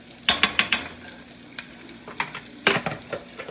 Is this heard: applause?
no